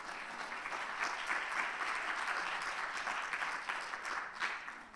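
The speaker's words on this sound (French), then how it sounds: "On peut les applaudir très fort" Conference audience gives sustained applause for guests already on stage at a health authority colloquium round table, a dense steady wash of many hands clapping at moderate distance throughout.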